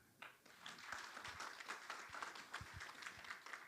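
An audience at a cultural heritage policy symposium claps briefly and faintly, scattered hand claps forming light applause at a distance.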